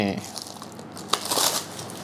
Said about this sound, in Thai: ต้องแกะซีลมานิดนึงก่อนนี่